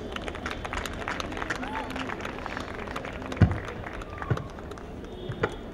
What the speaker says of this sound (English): Big round of applause for Chef Sean, please